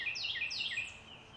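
Birds sing along a forest trail at Sequoyah State Park in Hulbert, Oklahoma, with quick bright descending chirps repeating at moderate distance over a quiet background.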